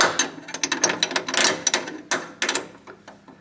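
A wrench working the lower adjustment collar on a MeisterR ZetaRace coilover for a Miata track car, giving a close run of quick metallic ratcheting clicks and taps in an uneven rhythm, with no speech.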